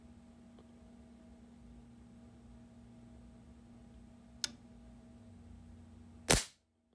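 A Crosman Drifter air gun, fitted with a two-stage trigger, is cocked and fired in a quiet room: a faint hum, one short sharp click, then a crisp loud snap of the shot near the end.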